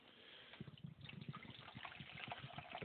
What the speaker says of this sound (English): pour some water here in the cup